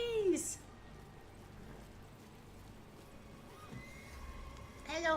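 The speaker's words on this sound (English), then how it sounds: "Horsies!" A horse in a fantasy action video game gives a short whinny at the start, with a fainter horse sound near the end over quiet game ambience.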